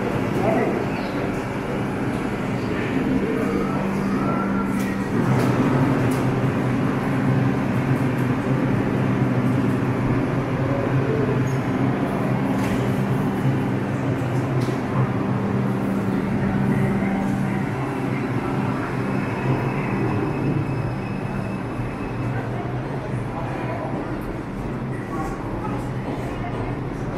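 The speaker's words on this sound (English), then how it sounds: "This is a Manhattan-bound 5 local train." Bombardier R142 5 local subway train at Atlantic Avenue station, with a steady loud rumble of wheels and motors running the whole time and onboard announcements spoken over it.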